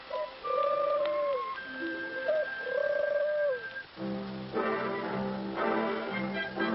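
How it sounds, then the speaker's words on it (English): Doves cooing in their nests in a cartoon retelling of Noah's Ark, repeated rising-falling coos with a ticking backdrop, shifting into layered musical tones in the second half. "even to the doves, cooing in their nests."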